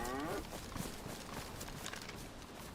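A cow moos once in the video game DayZ, a short low call at the start that is faint and distant against a noisy outdoor game background, followed by soft hoof-like steps and no talking.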